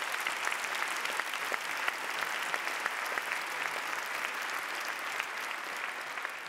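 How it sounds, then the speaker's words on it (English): A hall audience applauds event sponsors at a medical oration, a dense, even wash of many hands clapping that holds steady from start to finish without fading. "Let's give them a round of applause."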